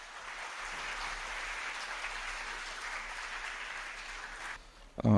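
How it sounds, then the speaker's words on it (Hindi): Audience applause at a Kavish Foundation talk welcoming Altaf Shaikh to the dais, a broad even wash of clapping for several seconds that fades out before a sudden loud knock at the end. "जनाब अल्ताफ शेख साहब, जोरदार तालियों के साथ।"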